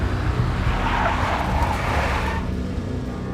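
Tyres skid loudly in the Max Payne video game as a big black Mercedes screeches along, a sustained squealing slide over engine noise that eases off near the end.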